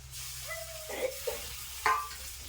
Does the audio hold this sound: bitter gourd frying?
yes